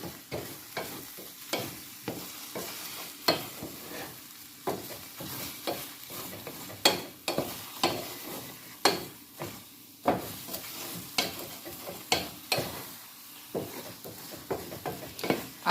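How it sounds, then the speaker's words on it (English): Scrambled eggs stirred in a stainless steel pot: soft scraping strokes and irregular spoon taps over a continuous low sizzle, close and fairly quiet, with no talking. "So now I'm gonna stir the egg."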